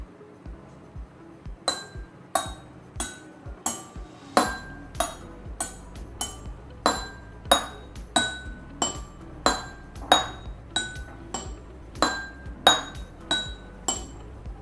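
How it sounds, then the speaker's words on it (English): A heavier, larger spoon strikes a glass again and again at a steady beat, each clear ringing clink standing out alone. The strokes are close and distinct, around twenty of them, with a faint low knock from the handling underneath. "Now we'll try to listen the same thing with a bigger spoon."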